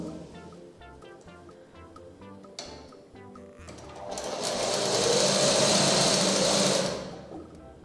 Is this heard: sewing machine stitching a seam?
yes